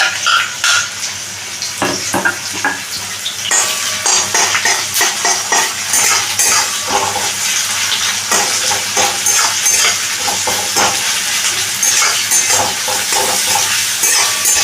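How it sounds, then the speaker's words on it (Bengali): Sliced onion, crushed garlic and green chilli fry in a pan with a loud, continuous sizzle, broken by frequent scraping and clinking as a utensil stirs them close by. "এখানে পেঁয়াজ, রসুন আর কাঁচা লঙ্কাটা কিন্তু সুন্দর করে ভাজা হয়ে গেছে"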